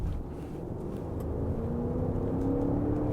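A heavy Range Rover P530 Autobiography long-wheelbase SUV with a V8 accelerates, a steady low engine drone with a slowly rising whine, heard from inside the cabin with no talking.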